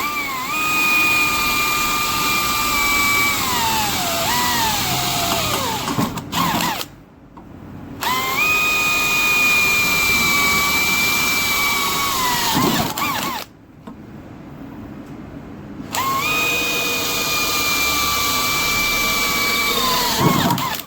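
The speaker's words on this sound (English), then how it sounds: "drill out the holes." A power drill whines at high speed through three long bursts, pitch sagging under load, separated by short silences.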